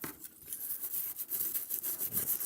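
A toothbrush scrubs a solder stencil clean during a MacBook Pro repair, with steady rapid bristle rasping in short back-and-forth strokes, close and moderately quiet, and no talking.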